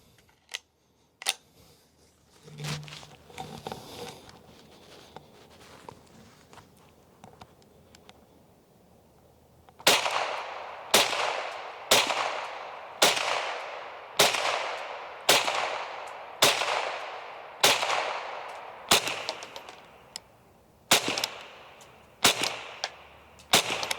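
An antique Winchester 74 rifle is fired in a quick regular series of about a dozen sharp, loud cracks, each with a brief decaying tail. Fainter scattered clicks and shots come before them, with no talk.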